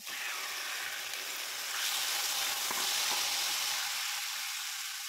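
Chicken gizzards fry in a pan with sautéed garlic and onion, giving a steady, dense sizzle that swells slightly midway, with faint stirring taps and no voices.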